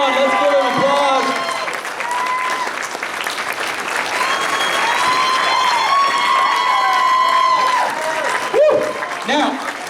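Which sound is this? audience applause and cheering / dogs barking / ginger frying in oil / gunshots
audience applause and cheering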